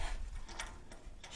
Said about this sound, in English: Grab my wrench. Get 1 or 2 cranks